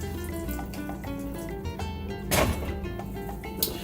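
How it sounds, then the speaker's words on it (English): Water pours from a tap into a paella pan of chicken and seafood, a short, close, continuous splash with a brief clatter partway through. "I'm gonna add a little bit more water."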